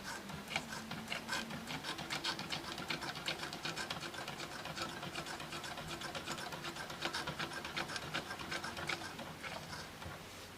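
A sewing machine runs steadily through fabric for free-motion appliqué stitching, a continuous close mechanical whir and rapid needle clatter with a low motor hum and no talking.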